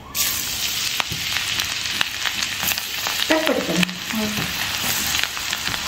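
Garlic fries in oil over low heat, a loud steady sizzle close by with occasional stirring scrapes and a brief voice murmuring in the middle.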